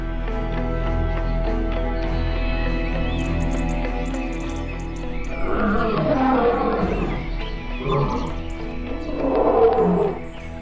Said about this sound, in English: a 6-year-old male lion